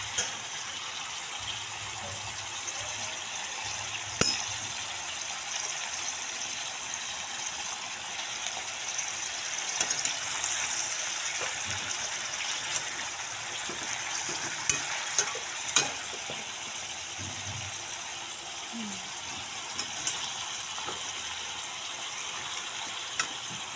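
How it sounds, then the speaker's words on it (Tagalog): Chopsuey vegetables fry in a pan while being stirred, giving a steady close broadband sizzle with occasional sharp clicks of the spatula against the pan, and no voices over it. "So, haluin ulit natin siya."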